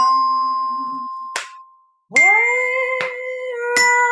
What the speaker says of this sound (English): So I would use some chimes, which I have here.